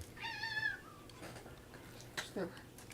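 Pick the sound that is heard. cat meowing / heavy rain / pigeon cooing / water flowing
cat meowing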